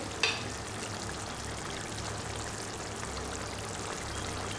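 Egg paneer pieces drop into simmering curry gravy with a brief splash, then a soft steady bubbling sizzle continues at low level with no talking.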